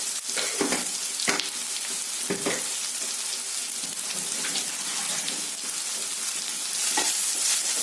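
Onions fry with a little salt in a pan, giving a steady, close hiss and crackle, broken by several louder scraping strokes as they are stirred.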